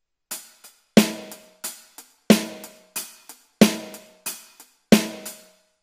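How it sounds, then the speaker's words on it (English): Drum kit playing eighth notes on the hi-hat with a crisp snare backbeat landing on beats 2 and 4, a steady, close, evenly spaced pattern with no talking. "So every time I count the numbers 2 and 4, I hit the snare with my left hand, so it'll sound like this."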